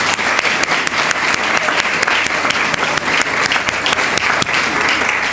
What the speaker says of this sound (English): let's give a round of applause for the Agricultural Society